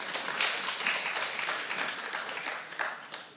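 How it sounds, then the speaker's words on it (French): Conference audience at a kidney health round table applauds, a steady fairly quiet wash of many hands clapping for a few seconds, with little talk over it. "Allez, je vous en prie, applaudissez."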